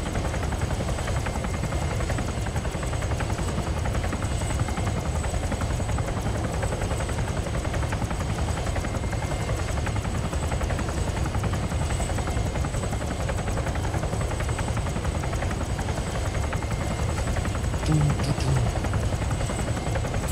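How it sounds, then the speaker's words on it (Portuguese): Helicopter in the video game ArmA 3, a steady droning engine and rotor whine holding constant and fairly loud for about twenty seconds without breaks or voices. "PM desceu de helicóptero lá."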